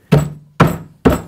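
Furniture side panel of a base unit being knocked into place during assembly, three loud solid thunks evenly spaced about half a second apart, each decaying quickly into silence.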